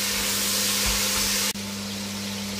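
Pork and vegetables brown in a pan with a loud, steady, hissing sizzle, broken by a sudden short dip in level partway through, with no talking.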